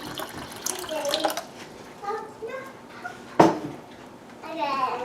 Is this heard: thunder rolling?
no